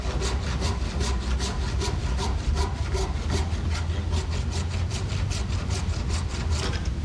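A hand tool, likely a saw or rasp, shaves excess wood off a guitar neck blank in quick, steady, even strokes, close and fairly loud, with a low hum underneath.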